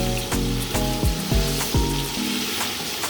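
Sorrel goes into a pot of thieboudienne on the stove and is stirred, bringing a steady close frying sizzle broken by repeated scraping, clattering stirs, with no talking.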